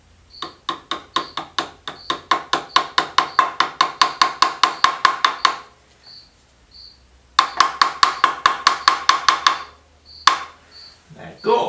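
A knocking stick raps on engine parts of a BM 250 trials motorcycle during crankshaft assembly, giving a long run of evenly spaced sharp metallic knocks. A pause follows, then a second run, all close and loud with no talk.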